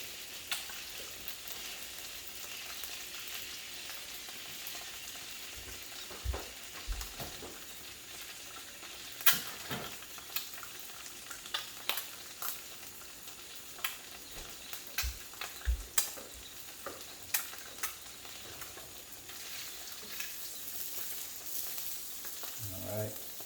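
Eggs seasoned with lemon pepper fry over easy in a pan with a steady soft sizzle, broken by scattered clinks and scrapes of a utensil, close and moderately quiet.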